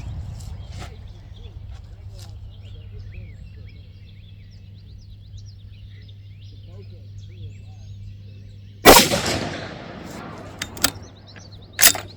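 A rifle fires once at a shooting range, a sharp loud crack followed by a short ringing decay, with a couple of lighter metallic clicks afterward over a low steady hum and faint birdsong.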